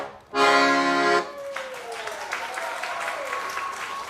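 After a loud buzzy electronic tone, a live show audience breaks into applause, a dense steady patter of clapping with a faint falling tone running beneath it.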